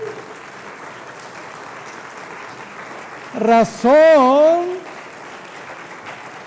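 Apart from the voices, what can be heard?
congregation applause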